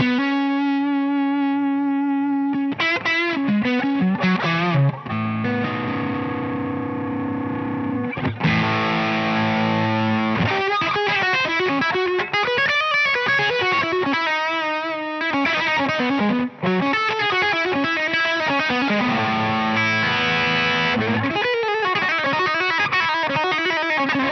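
A Schecter signature electric guitar is played through heavy distortion and effects, with sustained notes, bends and quick melodic runs. The lead sits loud and close, alone without any talk.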